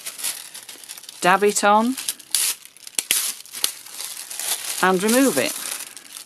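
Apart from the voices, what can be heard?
crinkling aluminium foil being handled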